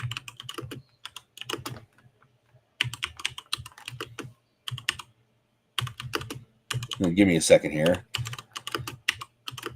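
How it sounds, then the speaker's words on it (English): Rapid clattering keystrokes on a computer keyboard come in bursts between stretches of quiet, close and clear, with someone talking briefly among them. "So while you're typing,"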